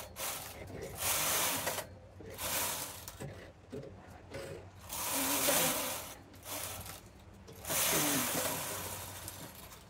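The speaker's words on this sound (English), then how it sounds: "So right now I'm going to knit with waist yarn." A knitting machine carriage runs across waste yarn in four rasping, whooshing passes, each a couple of seconds long with brief quiet gaps between, close and fairly steady in loudness.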